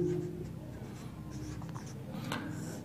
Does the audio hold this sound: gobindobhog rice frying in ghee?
no